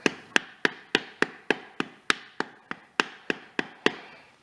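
A hammer strikes the transmission pump seal on a 987 Porsche Boxster about fifteen times in a steady, evenly spaced rhythm, each blow a sharp, close metallic tap with a short decay, with no talking.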